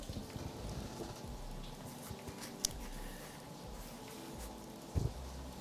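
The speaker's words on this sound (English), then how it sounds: "It's raining out here, too" Steady rain falling outdoors, a dense even patter with a few louder drops and knocks, continuous and fairly close throughout.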